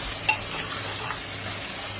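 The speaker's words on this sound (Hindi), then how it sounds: "जब तक इसमें से ऑयल नहीं दिखता है हमें, तो बस हम इसे भून लेते हैं।" Mutton stir-fries in oil in a pan with a constant hissing sizzle and a single sharp scrape of a utensil early on.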